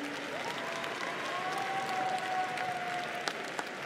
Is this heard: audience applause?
yes